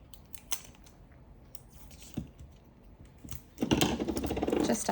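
Craft tape is pulled from a roll and snipped to hold a cutting die in place, with a few sharp clicks and cuts followed by a louder, sustained ripping rasp of tape unspooling.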